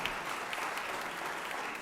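An audience in a Georgia Senate chamber claps in a steady, even wash of applause, sustained and moderately distant with no clear speech on top.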